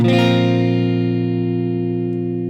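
A single guitar chord strummed once with the fifth string muted, left to ring, decaying slowly with a bright, full tone and nothing else around it.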